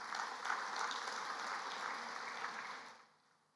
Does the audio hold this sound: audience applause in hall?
yes